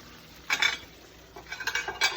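A spoon and cutlery handled in a kitchen while serving a Thanksgiving side dish, a few bright metallic clinks and scrapes in short bursts, close and moderately loud with no speech.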